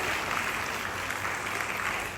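Sustained applause from an audience at a college awareness event honoring the prize-winning students, a steady even wash of clapping throughout with no break.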